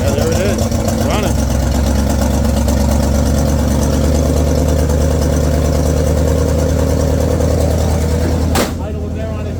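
A 1960 Pontiac Bonneville engine running at high idle after sitting for years, a loud steady rumbling drone close by, with a sharp click near the end before the note drops slightly.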